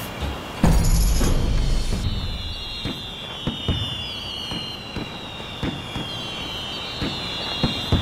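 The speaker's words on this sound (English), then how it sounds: "Oh, these fireworks are so pretty!" Fireworks bursting in a fantasy online role-playing game: a loud boom and crackle opens, then repeated sharp pops and fizzing crackles scatter over a steady whistling hiss for the rest of the stretch.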